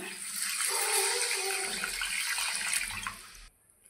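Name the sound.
water poured into spiced fish curry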